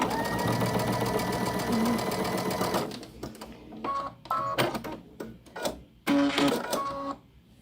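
A sewing machine runs steadily while stitching a quilt birdhouse block, then switches to short stop-and-start bursts with clicks and pauses, close and moderately quiet, with no voices.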